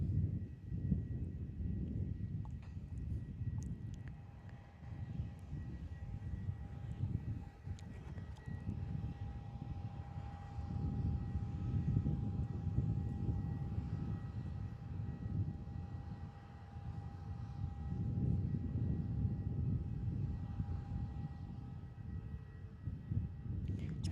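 A Jetstar airliner at Busselton Airport rumbles in the distance with a steady low roar and a faint engine whine, sustained throughout without speech.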